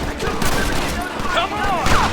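Gunfire in the video game Red Dead Redemption, a continuous loud fusillade of overlapping shots, with background voices shouting amid the shooting.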